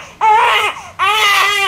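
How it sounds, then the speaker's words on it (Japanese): An infant cries loudly and close by in two strained wailing bursts separated by a short breath, with no other voices present. "赤ちゃんの泣き声で俺の声に聞こえないか"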